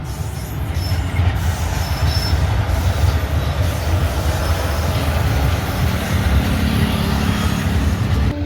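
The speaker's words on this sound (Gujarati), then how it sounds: "ટ્રેન પણ આવી ગઈ છે જોઈ શકો તમે" A train rolls in with a loud, steady rumble of wheels on rails and faint high squeals, the noise close and continuous throughout.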